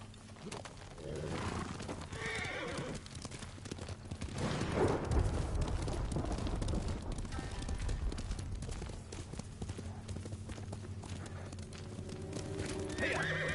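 Horse hooves clip-clop at a steady gallop through a Ghost of Tsushima game scene, with whinnies breaking in, loud and close over a continuous layer of game music and ambience.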